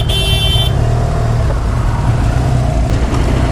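A motorcycle engine, an Interceptor 650 or Bonneville T100, runs loud and close with a steady, throbbing exhaust drone that holds level for a few seconds, without a clear rise in revs.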